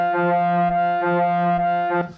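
A sampled tone loops inside Reaper's sampler with a crossfade. The same sustained harmonic note repeats about every 0.9 seconds, with a brief dip at each loop point, and then cuts off.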